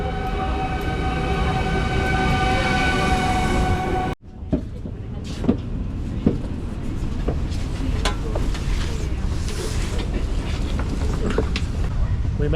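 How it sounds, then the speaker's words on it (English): Passenger train car in motion on a rail trip from Brussels toward Bruges, with a steady low rumble and occasional clicks and knocks, following a brief sharp cutoff from a louder tonal hum at the start. "We made it on the train."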